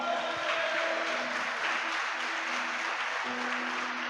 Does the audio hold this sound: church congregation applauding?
yes